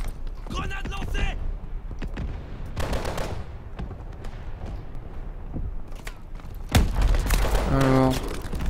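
Call of Duty: Advanced Warfare campaign firefight with a grenade and bursts of gunfire, shots and blasts scattered through the action with a player talking over them.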